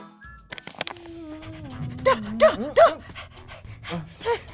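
Heavy, out-of-breath panting comes in a quick run of short, voiced gasps, loud and close, after a few sharp clicks at the start.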